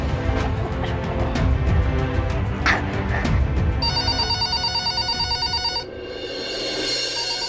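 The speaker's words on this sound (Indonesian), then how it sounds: "aku harus telepon Om Ibnu sama Om Timbul" A telephone is dialed and then rings. Faint clicks come first, followed by a sustained ringing tone lasting about two seconds in the middle. A busy, noisy background runs underneath throughout, and no one speaks.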